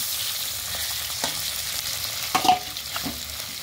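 Fish frying in oil in a wok makes a steady, close sizzle, with a few brief scrapes and clinks of a utensil stirring partway through.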